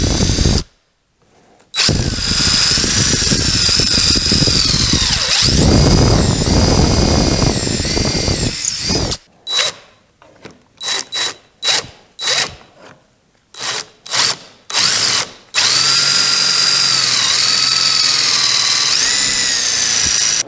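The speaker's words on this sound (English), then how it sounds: "now I've got to put a hole, this elongated hole," A power drill whines loudly and steadily while boring an elongated hole through a wooden shotgun stock for a 1920 Ithaca Flues double, then pulses in a string of short bursts before one last sustained run.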